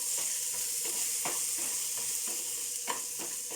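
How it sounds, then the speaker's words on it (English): Tomatoes roast and sizzle in a pan for an Indian-style spicy egg macaroni pasta, a steady close frying hiss with repeated stirring scrapes throughout. "Now the tomatoes are roasted and it got like a mixed thing"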